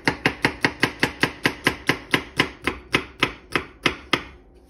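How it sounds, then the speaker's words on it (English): A knife rocks through marinara ingredients on a cutting board, about seventeen crisp, evenly spaced chops that speed up slightly and then slow toward the end. Close and clear, with no talking. "we don't have it by chopping with the rocking motion, rock, rock, rock"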